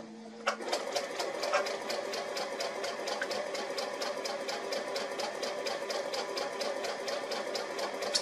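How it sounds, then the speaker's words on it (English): A sewing machine stitches a 1/4 inch quilting seam with a straight-stitch foot, a steady, fast mechanical whir and rapid needle clatter that runs on without a break for the whole stretch. "And I'm going to go ahead and get my seam sewn on this side."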